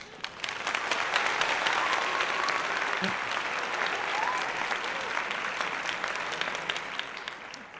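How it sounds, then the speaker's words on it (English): Applause at a podcast gathering: steady, sustained clapping from a small group throughout, fairly even in loudness with no talk over it. "so again, applause for making it here"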